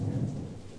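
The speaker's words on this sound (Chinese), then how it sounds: "看情形，这阴雨还会持续。" A low rumble of thunder rolls under steady rain in a historical drama scene about an endless rainy spell, a deep, dense wash that fades slightly across the short moment.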